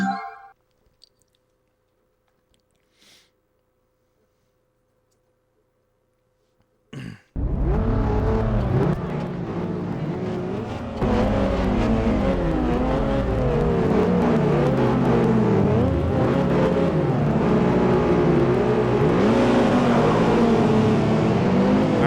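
Race car engines in the PlayStation 2 game Street Racing Syndicate roar in after a near-silent opening, loud and sustained with rising and falling revs as gears shift, running continuously to the end.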